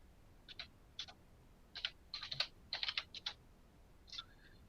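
Keys clacking on a computer keyboard while text is entered in a web interface, coming in several quick bursts of crisp clicks separated by short pauses.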